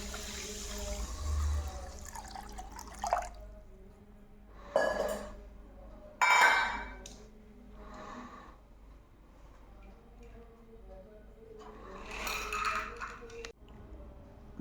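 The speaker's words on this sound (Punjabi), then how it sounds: "ਚਾਸ਼ਨੀ ਵਾਸਤੇ ਨਾਲ ਹੀ ਆਪਾਂ ਇਹਦੇ ਵਿੱਚ ਪਾਣੀ ਪਾ ਦਾਂਗੇ" Water pours into a pan of sugar for syrup in several separate short bursts with quiet gaps between them, close by and moderately loud.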